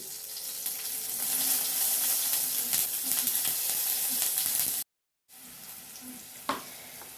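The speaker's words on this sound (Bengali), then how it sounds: "সর্ষের তেল দিয়ে দিচ্ছি কালো জিরে কাঁচা লঙ্কা এই টমেটোটা আমি গ্রেট করে দিচ্ছি" Grated tomato, nigella seeds and green chilli fry in mustard oil for a fish curry, a dense continuous hiss and sizzle close by, briefly cut to silence, then resuming with a single clank of a utensil.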